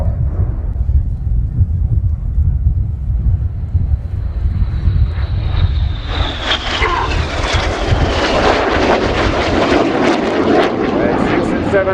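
Royal Air Force Red Arrows jets fly at an air show display. A distant low rumble builds into a loud, close roaring pass with a rising whine as the aircraft sweep overhead, and a voice talks beneath it.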